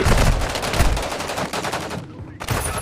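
Rapid bursts of video game gunfire, sustained and loud through most of the moment with a brief gap near the end, then shooting resumes.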